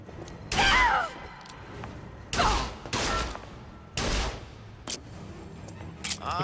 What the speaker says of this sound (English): Could it possibly have been a gunshot?